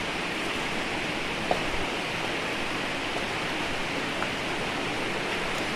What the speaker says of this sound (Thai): ฝั่งตรงนี้ก็จะมีน้ำตกนะคะ เป็นน้ำตกเล็กๆ เนาะ